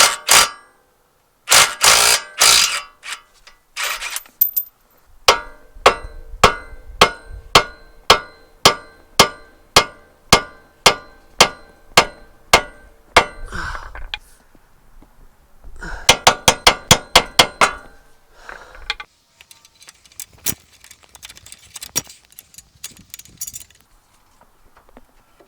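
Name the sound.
hammer striking car suspension to loosen ball joint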